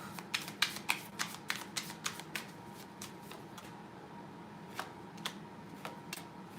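Playing cards being shuffled during a tarot-style reading, a quick run of crisp riffling snaps that taper into sparser flicks, close and fairly quiet over a low room hum.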